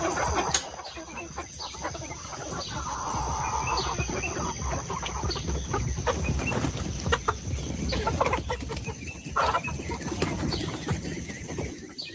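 Chickens on a farm clucking and calling near and far in a continuous, busy barnyard chorus, with a few sharper squawks rising above the general rustle.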